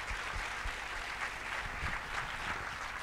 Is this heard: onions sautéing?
no